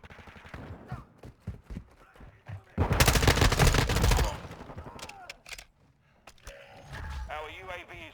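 Automatic gunfire in Call of Duty Modern Warfare 2 played on PC, a loud sustained burst of rapid shots among scattered single cracks and game effects, mixed with players talking.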